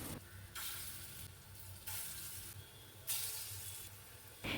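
Lentil fritters fry in mustard oil in a wok over a medium gas flame, a faint steady sizzle that swells in several bright bursts as they are turned.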